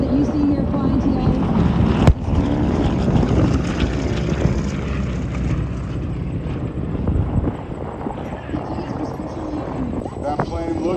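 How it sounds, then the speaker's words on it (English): B-25 bomber flying at the Quad City airshow, a loud, steady propeller-engine roar with rough low rumble continuing throughout, while a voice talks over it. "the B-25 that you see here flying today"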